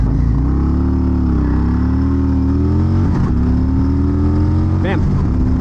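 A 2024 Harley-Davidson Road Glide motorcycle pulls hard from a standstill toward 60, its loud engine note rising steadily through the gears with a brief shift break, close to the rider.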